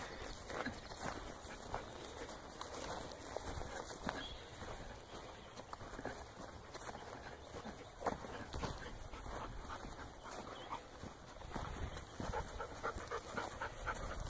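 A heavy dog pants steadily and rhythmically close by outdoors on a turkey hunt, with faint footsteps and rustling underneath and no speech.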